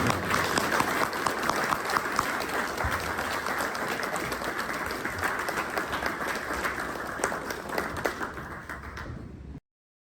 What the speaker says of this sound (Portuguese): gostaria de pedir uma salva de palmas ao nosso convidado